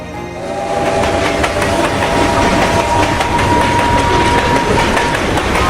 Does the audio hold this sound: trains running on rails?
yes